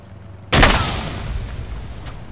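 A frag grenade goes off in the World War II shooter Iron Front: one sudden, loud, close blast that trails into a rumbling, slowly fading decay with faint battlefield noise behind it.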